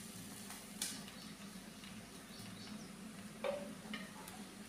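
Washed puffed rice (murmura) is tipped into a pan and stirred with a spoon, giving soft, faint rustling and scraping, with a couple of sharper clinks against the pan.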